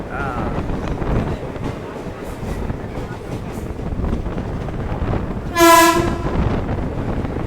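Train noise rumbling at platform 2 of Palakollu railway station, with a loud train horn sounding briefly near the end over background murmur.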